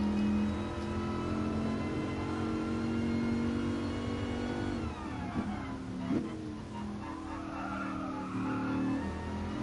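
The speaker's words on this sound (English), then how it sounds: "Oh, this has got some nice sounds to it. Supercharger whine." A Dodge Viper road car in Gran Turismo Sport revs low with a steady supercharger whine layered over the engine note, with tire squeal and skidding breaking in toward the middle.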